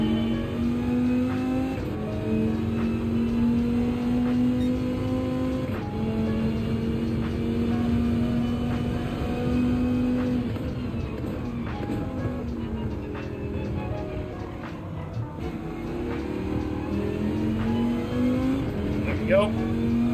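Group 4 race car in Gran Turismo 7 lapping Laguna Seca, its engine a loud, steady drone rising and falling through gear changes across the whole stretch, with a player talking over it.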